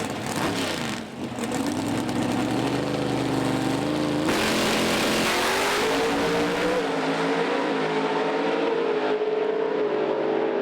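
Pro Stock drag race cars at a PDRA drag racing event roar loudly and continuously, with engine pitch climbing and shifting as they accelerate down the track.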